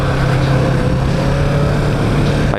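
An engine idling along at quarter throttle, a loud steady drone with a low humming tone and a choppy, uneven texture, close by and continuous until it cuts off abruptly at the end.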